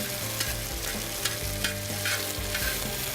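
Onions and peppers cooking in olive oil on a grill, a steady close sizzle with light scraping as they are moved around.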